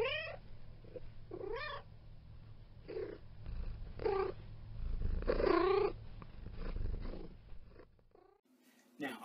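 A cat purrs up close in a low continuous rumble, with short meows and vocal bursts rising over it and some speech-like sounds nearby.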